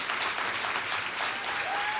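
A crowd at a Rick Santorum political rally in Cape Girardeau applauds steadily, a dense, even wash of clapping that fills the whole stretch with no talk over it.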